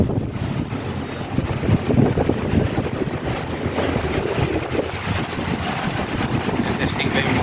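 A Hyundai Mobis wiper motor assembly for a 2011–2018 Accent runs on a bench test, giving a steady, continuous motor drone with people talking over it throughout.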